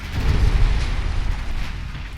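A warship's flash fire explosion in the naval game Ultimate Admiral Dreadnoughts, a deep rumbling boom that swells and rolls on with no talk over it.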